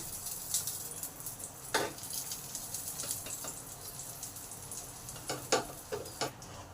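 Mughlai paratha stuffed with potato and egg frying in a pan, a soft, low sizzle with occasional crackles and light clicks, close and fairly quiet with no talking.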